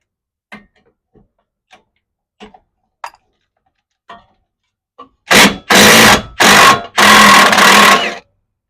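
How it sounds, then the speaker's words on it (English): An old Milwaukee impact wrench works on a 2017 Toyota Corolla during a CV axle and brake job: a few quiet clicks and taps, then four loud, close bursts of rapid hammering, the last one longest. "This is a pretty mean impact. It's old Milwaukee."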